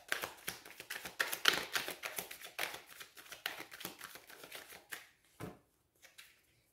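Oracle cards are shuffled by hand in quick, close, riffling bursts that keep a busy rhythm, then thin out into a few soft taps and near silence.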